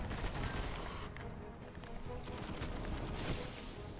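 Dense, distant machine gun fire in the video game Destiny: Rise of Iron, rapid bursts and booms rattling continuously under a busy battle mix at low volume.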